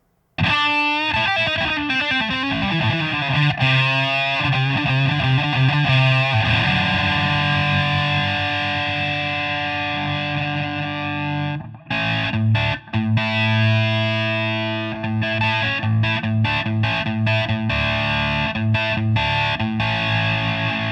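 A heavily distorted Greco Ace Frehley ES-600 electric guitar plays loud sustained chords and riffs, with ringing overtones, brief stops and choppy repeated strums near the end.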